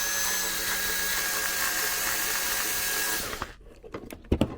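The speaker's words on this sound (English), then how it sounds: "And then carefully drill" Power drill boring into the plastic head of a Blythe doll, a loud steady whine for about three seconds that stops abruptly, followed by a few light clicks and taps.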